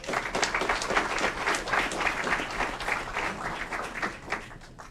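A crowd claps steadily at a city council meeting in Aurora, a dense, sustained round of applause that fills the room, with no clear speech over it.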